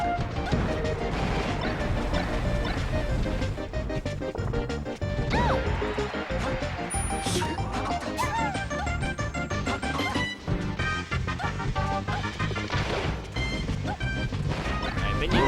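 Loud, dense clatter of Super Smash Bros. Melee gameplay, an up smash attack landing among a constant barrage of hit impacts, laser and shine sound effects and crowd noise, with no clear single isolated strike.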